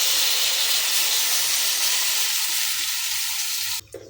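Tamarind water poured into a hot pan of bitter gourd curry sets off a loud, close hissing sizzle that holds for nearly four seconds, then cuts off abruptly.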